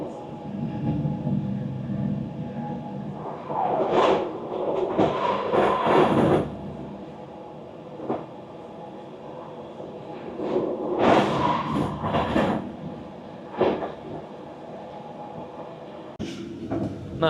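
EuroCity 159 train on the run from Graz to Zagreb, with a steady rolling rumble inside the carriage and louder swelling bursts of rail noise and wheel clatter coming and going, no talk.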